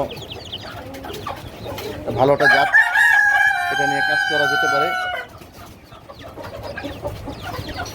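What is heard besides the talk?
Black Australorp chickens clucking and rooster crowing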